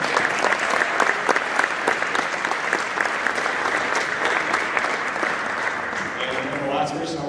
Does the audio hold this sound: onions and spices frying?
no